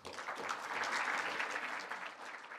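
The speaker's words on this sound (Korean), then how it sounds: "박수로 맞이해 주시기 바랍니다" Audience applause at a Korea–Japan economic forum, welcoming an executive of the Tokyo newspaper co-hosting the event; steady, dense clapping from a large seated crowd, sustained evenly for a few seconds without speech.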